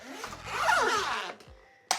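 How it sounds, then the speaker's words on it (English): A luggage cover is unzipped in one drawn-out, rasping pull lasting over a second, up close and fairly quiet, followed by a short sharp click at the end. "if I unzip my cover, you'll be able to see it properly."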